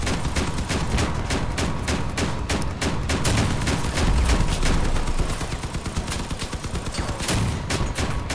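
Rapid, dense gunfire from cannon and machine guns in the vehicle combat game Crossout, an unbroken rattling barrage of close, loud shots.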